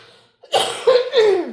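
A person coughs a few times in quick succession, close and fairly loud, with rough, throaty bursts.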